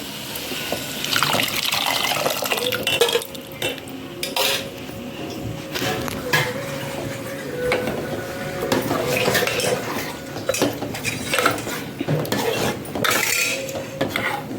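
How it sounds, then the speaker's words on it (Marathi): Water pours and splashes into a pot of cooked dal for several seconds, mixed with metal clinks and scraping of a utensil against the pan, close by. "याच्यात आपल्याला गरजेनुसार पाणी टाकायचं आहे"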